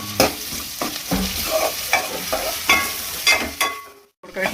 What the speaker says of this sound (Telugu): ఇంకా కలుపుకోవాలి.